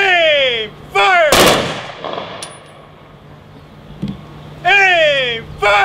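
A single sharp rifle volley bursts out at a military graveside service in Riverside National Cemetery, ringing out between spoken commands, with a brief metallic clack after it.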